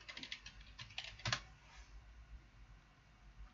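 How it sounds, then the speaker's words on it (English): Keys tapped on a computer keyboard while a password is entered to launch GParted on a Raspberry Pi 4, a quiet flurry of clicks in the first second and a half, then faint room noise. "You have to type in your password,"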